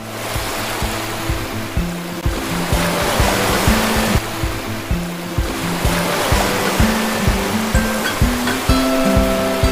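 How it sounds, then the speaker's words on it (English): Stormy sea waves surge and crash in a continuous roaring wash, with a low rhythmic musical pulse running underneath throughout. "Jesus and his disciples were caught in a raging storm."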